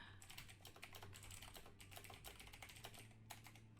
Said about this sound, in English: I'm just typing it out real quick to them in the Discord.